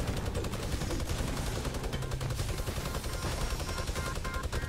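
Dense, rapid gunfire crackles all around in a Fortnite Battle Royale match, overlapping shots and bursts layered into a constant, fairly close barrage with no speech.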